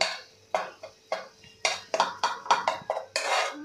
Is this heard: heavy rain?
no